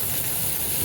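Onions and ginger hit a hot pan with a sudden, loud, steady sizzling hiss that stays close and continuous throughout.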